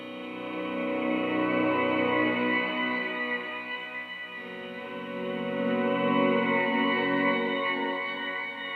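Soft guitar volume swells bloom and fade under a long shimmering reverb tail, with layered sustained tones rising and falling gently at moderate loudness and no voices.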